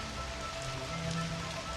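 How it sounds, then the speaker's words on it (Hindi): Steady night rain in a jungle pattering on surfaces, an even dense hiss of drops with a low rumble underneath, continuous and moderately quiet, no voices. "रात गहराते गहराते बारिश थोड़ी कम हुई।"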